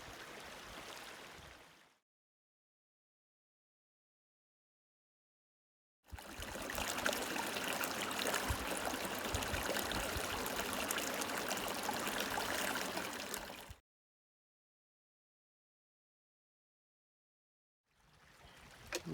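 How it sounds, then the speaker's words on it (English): Boucher Creek in the Grand Canyon flowing past a campsite, a steady, close rushing and trickling of water heard in separate bursts broken by silence. "Boucher Creek."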